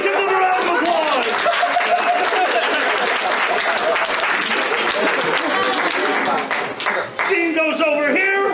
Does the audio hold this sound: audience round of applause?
yes